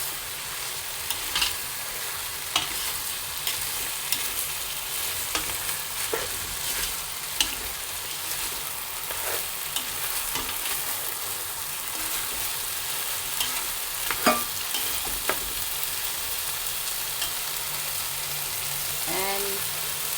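Thai green curry chicken bubbles and sizzles in a pan while it is stirred. A steady, moderate frying hiss runs throughout, with scattered clinks and scrapes of the spoon.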